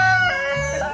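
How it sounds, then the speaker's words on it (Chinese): Rooster at Muzha Zoo crowing once, loud and close, a drawn-out strained call lasting about a second. "年年宝宝跟公鸡第一次接触"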